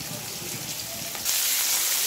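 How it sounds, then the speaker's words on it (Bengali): Bitter gourd frying in a pan at home, a soft steady sizzle that jumps to a louder, brighter hiss partway through as the oil spits, heard up close. "আমি রান্না বসিয়ে দিলাম করলা ভাজি রান্না করবো"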